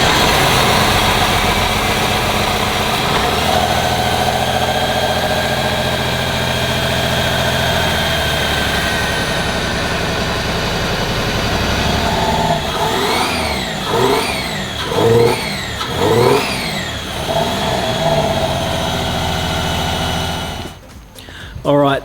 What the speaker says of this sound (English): now it's only running on 3 cylinders at best and throwing flames out the intake